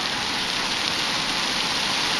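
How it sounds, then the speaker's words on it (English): Heavy pouring rain from a thundercloud drums steadily and loudly as a dense, unbroken downpour, filling the whole span with no talk. "Hallelujah, it's pouring rain."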